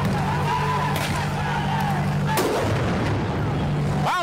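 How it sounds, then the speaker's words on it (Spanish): A gunshot in a played police video: loud sharp cracks over a dense, noisy background of traffic-like rumble, with a strong broadband burst near the middle and another near the end. "Mierda, le dio un tiro al chamaquito."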